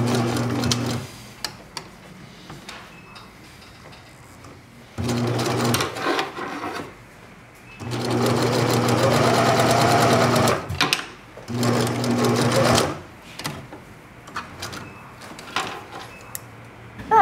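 A sewing machine stitches a handwoven tote bag, with reverse stitching, running in several loud, close bursts of steady mechanical hum separated by pauses.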